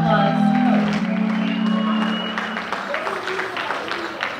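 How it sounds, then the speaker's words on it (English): A crowd claps steadily at a Cape Verdean gala in Brockton, with a voice rising over the applause at first before the clapping carries on alone. "Give her another round of applause."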